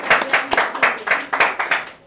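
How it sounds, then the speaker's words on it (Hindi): Audience clapping at a Bhojpuri film launch ceremony, a small group clapping in a regular rhythm of about eight distinct bursts, close and fairly loud with no talk. "और एक बार और ताली बजाना चाहूँगा"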